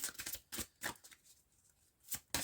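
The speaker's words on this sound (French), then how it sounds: "Je vais tirer une autre carte." Tarot cards being shuffled and drawn, with several quick crisp riffling bursts separated by short pauses, close and fairly quiet, no talking.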